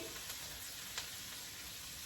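Chicken stir-fries in a hot pan with a steady, soft hiss of sizzling oil and a faint stirring scrape, continuous and fairly quiet throughout.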